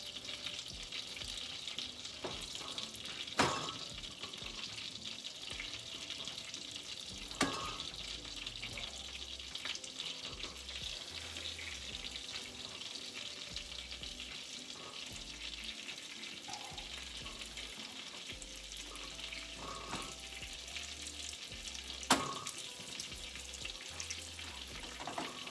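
Cod pieces pan-fry with a soft, continuous sizzle, broken by occasional sharp clicks and knocks from utensils against the pan, and no talking.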